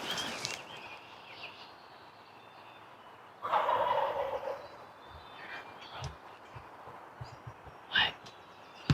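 Wild turkey gobblers gobble in the distance on Wisconsin public land, one loud rattling call followed later by a shorter one, amid quiet outdoor ambience.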